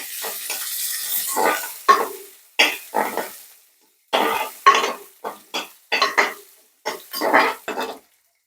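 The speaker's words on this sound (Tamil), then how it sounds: "இப்போ வெங்காயம் வதங்கட்டும்." Small onions sautéing in a pan for a black-eyed pea rice dish, heard as a run of separate bursts of stirring and scraping with brief sizzles, broken by pauses, close and moderately loud.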